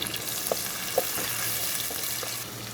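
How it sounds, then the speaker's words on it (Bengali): Two medium-sized chopped onions fry in a pan with a continuous, even sizzle up close, broken by a few faint ticks and pops of spatula or oil. "দিয়ে দিব আমি এই যে মিডিয়াম সাইজের 2টা পেঁয়াজ কুচি দিয়ে এটাকে একটু ভাজবো।"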